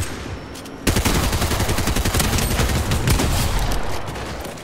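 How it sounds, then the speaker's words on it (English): Gunfire rattles in a Fortnite match, a dense, loud run of rapid shots after a brief quieter lead-in, continuing steadily for several seconds. "I can't see where I'm shooting"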